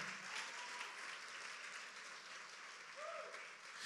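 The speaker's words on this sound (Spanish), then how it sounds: "Yo creo que eso merece un aplauso por nuestro Rey." Applause from a church congregation during a Spanish-language sermon, a soft, even wash of many hands clapping that continues steadily, heard from some distance at a low level.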